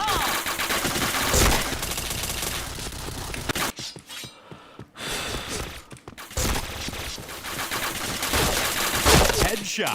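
Dense rapid gunfire from a shooter video game, loud bursts of automatic fire and sharp shot impacts filling most of the stretch with a brief quieter gap midway, with some voice chat underneath.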